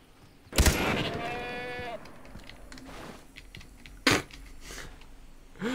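A goat bleats once in a wavering, nasal call, framed by a couple of sharp loud thumps and clatter before and after.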